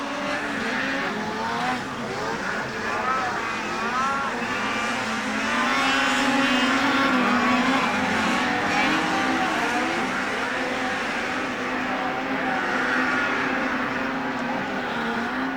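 Racing snowmobiles at the Rock Maple circuit at Haystack come down a mountain face in a semi-pro race, a dense, steady engine drone with rising and falling whine from several sleds close together, loud throughout.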